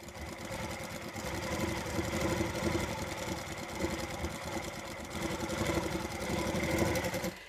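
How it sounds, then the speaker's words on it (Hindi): A sewing machine stitches over piping cord for Dori piping, a steady fast mechanical whir with even rhythm running continuously and close up, no voices. "अब हम यहाँ पर ऐसे ही सिलाई चलाते हैं"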